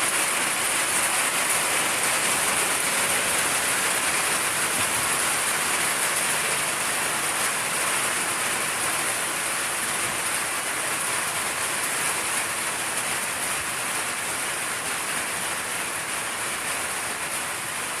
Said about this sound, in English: It's starting to rain harder.